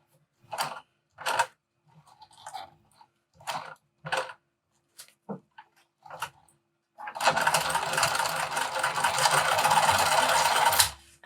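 A sewing machine is cranked by hand to stitch through thick material at a D-ring: several short, spaced mechanical bursts come first, then a continuous stretch of close, rough, whirring stitching lasting a few seconds.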